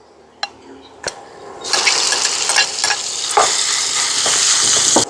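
Lobster meat dropped into a pan of hot butter and garlic, bursting into loud, steady sizzling and frying after a couple of sharp taps at the start, close up.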